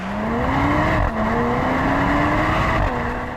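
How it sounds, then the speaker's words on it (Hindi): A Mercedes-AMG E 53 Cabriolet engine roars loudly and steadily at high revs in its exhaust mode, its pitch climbing with two brief dips as gears change, dense and close with no voices. "एग्जॉस्ट मोड भी ज़्यादा तड़केदार साउंड करता है"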